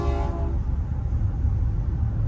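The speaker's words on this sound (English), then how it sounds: "That was a train honking its horn, by the way." A train horn blasts loudly for a brief moment with clear tonal harmonics, then cuts off into steady low rumble of passing rail traffic or engine noise.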